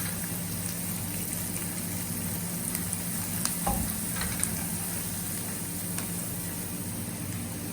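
Masala with turmeric fries in a pan over a low flame, a steady broadband sizzle with faint scrapes of stirring, continuous and fairly loud without any talking.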